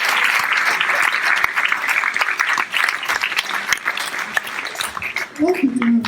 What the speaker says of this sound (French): On applaudit encore une fois Laurence